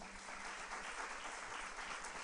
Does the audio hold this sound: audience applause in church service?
yes